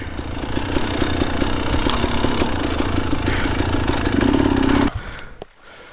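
A hard enduro motorcycle engine runs close and loud for about five seconds, with a steady idle that revs and rises before cutting off sharply. A brief faint tail follows.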